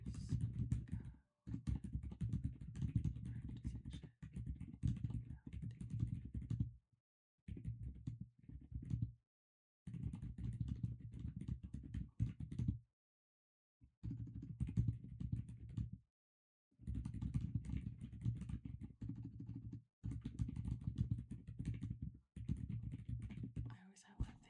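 Typing on a computer keyboard during a quiet work session, a steady stream of soft, close key clicks in bursts separated by short pauses, with faint whispered talk at times.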